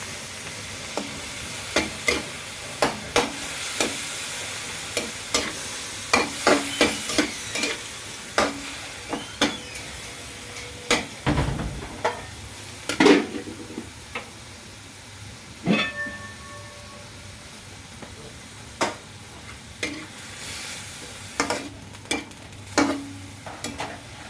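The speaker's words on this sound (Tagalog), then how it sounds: "Inukay-ukay pa ni mama guys" Chicken sotanghon stirred in a pan at home, a utensil scraping and clinking against the metal in irregular bursts over a soft, steady sizzle, close and fairly quiet with no talking.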